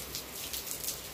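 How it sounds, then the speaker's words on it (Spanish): Rain starting to fall again, a steady hiss of drops on surfaces with bright, even patter filling the whole moment at moderate loudness. "Se empezó a llover otra vez"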